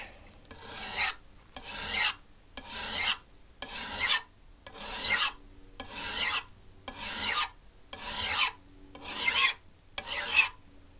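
A chipped kitchen knife is sharpened with broad strokes on a stone, producing ten evenly spaced, close rasping scrapes, each swelling and then stopping abruptly, in a steady rhythm roughly one second apart with no talking.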